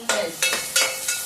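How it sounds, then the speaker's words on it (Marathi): Cumin and onion stirred in a hot pan, with a spoon scraping in four short strokes over a soft continuous sizzle, close and clear. "जरा हलवून घ्यायचं."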